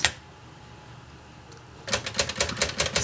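Typing on a typewriter, a quiet stretch ending in a fast run of sharp, close mechanical key strikes in the last second.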